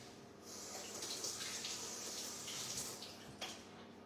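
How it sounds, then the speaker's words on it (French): Potatoes rinsed under a running kitchen tap, a steady close rush of water splashing into the sink for several seconds. "je rince juste mes pommes de terre."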